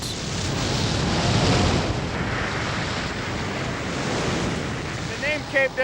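Roaring surf of breaking waves at the Columbia River bar near Cape Disappointment, mixed with heavy wind buffeting the microphone, continuous and loud, with a brief voice near the end.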